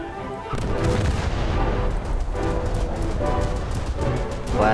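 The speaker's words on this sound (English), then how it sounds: "Fast firing gun is in action." A fast-firing gun in a video game blasts continuously, dense booming shots layered over game sound for several seconds, loud and close.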